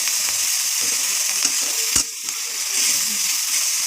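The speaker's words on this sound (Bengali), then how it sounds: "এবার ভালো করে নাড়াচাড়া করব" Spices and tomatoes for biryani sizzle steadily in a pan as they are stirred, with a dull knock near the middle; a continuous close frying hiss and no talking.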